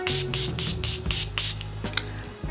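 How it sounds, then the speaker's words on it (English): Morphe Continuous Mist Setting Spray misting close by in a rapid run of short, loud pumped bursts with brief gaps, followed by a couple of softer sprays near the end. "I'm gonna use this Morphe Continuous Mist Setting Spray"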